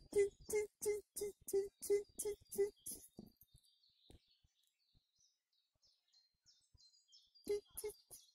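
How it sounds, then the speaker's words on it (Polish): A bird chirps in a forest in a quick, evenly spaced series of bright notes, then softer twittering follows, and the chirps briefly return at the end. "Posłuchajcie ptaszków"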